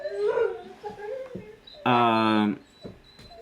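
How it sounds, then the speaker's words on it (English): Dogs whimpering: one lets out a high, drawn-out whine lasting about half a second, surrounded by quieter whimpers and a person talking nearby. "I think I just woke up my dogs."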